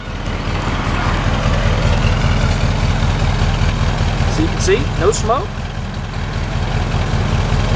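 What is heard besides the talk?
1948 Ford flathead engine idling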